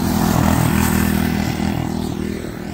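A child's little go-kart drives past outdoors in a neighbourhood, its small engine buzzing loudly and fairly close, then easing slightly as it moves away, with no talking over it.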